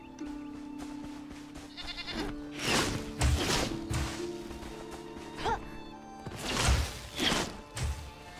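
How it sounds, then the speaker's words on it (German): Several sheep bleats from a single animal in the survival game Enshrouded, sounding at close range with soft thuds and footsteps mixed in. No other sounds or voices accompany them. "hier ist unser Schaf"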